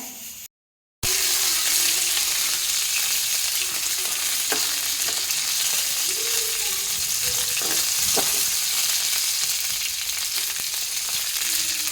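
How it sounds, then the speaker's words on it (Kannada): Cumin seeds roasting in a hot pan, a steady close crackle and sizzle with occasional stirring scrapes, after a brief silent gap near the start. "ಒಂಚೂರು ಬಿಸಿ ಆದರೆ ಸಾಕು ಜೀರಿಗೆ"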